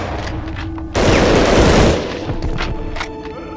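Gunfire rattles in a rapid burst during the PS1 shooter Medal of Honor: Underground, loud and close, followed by fainter scattered shots and game noise.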